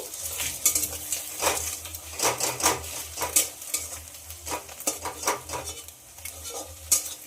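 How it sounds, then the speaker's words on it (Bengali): Two eggs seasoned with salt scrambling in a pan, a utensil scraping and tapping against the pan in quick irregular strokes over a soft, steady sizzle, close and fairly quiet. "এবার ডিমের ভুজিয়া বানিয়ে নেব।"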